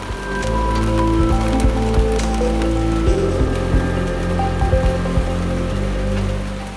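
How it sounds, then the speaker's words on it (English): Steady rain pattering on a converted bus, continuous and fairly close, with a low hum running underneath and no voices. "surprise, it started raining"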